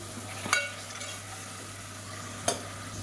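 Ginger garlic paste, loosened with a little water, sizzles steadily in a pan for biryani, broken by two sharp scraping stirs of a spoon about two seconds apart.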